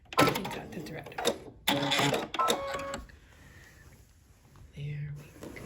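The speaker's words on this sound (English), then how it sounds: "I'll just take a few stitches in place, maybe one backwards, one forwards, and cut the thread." A sewing machine takes a few stitches in place on a quilted pillow top, heard as two short, close bursts of mechanical whirring separated by a brief pause, followed by quieter handling sounds.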